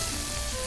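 A chicken egg fries in a wok with garlic and shallots, a steady, close, even hiss of sizzling oil with no talk over it.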